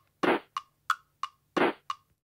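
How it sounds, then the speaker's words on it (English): Two deep, thick clap hits stand out, separated by a few lighter, higher-pitched ticks in a steady beat, dry and close with no other sound. "for a clap, just take any deep sounding clap"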